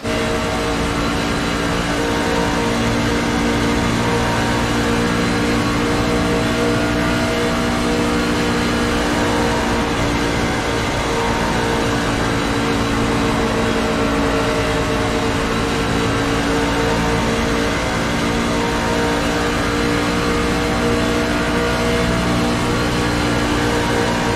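A race truck engine at full throttle in the SERL truck series finale at Las Vegas, captured onboard from the driver's visor cam: a loud, steady, unbroken engine roar with wind noise throughout the lap.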